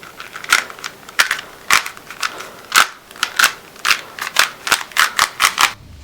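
An old, unlubricated Rubik's cube turns repeatedly, giving a steady run of dry, scratchy plastic clicks and grinding scrapes, close and loud, with no voice.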